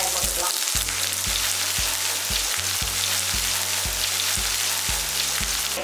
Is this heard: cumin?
yes